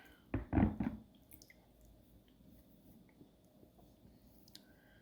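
Water splashed onto a prairie agate rock: a few quick wet splats and drips close by in the first second, then near silence with faint handling sounds.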